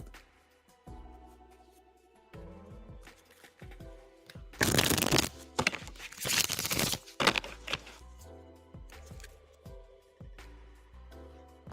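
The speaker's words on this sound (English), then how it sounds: "So Lala, I'm gonna shuffle for your first reading right now." Tarot cards being shuffled by hand during a live reading, a burst of riffling and flapping that swells loud in the middle and tapers off, with soft card handling before and after.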